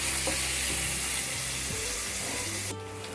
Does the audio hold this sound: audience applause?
no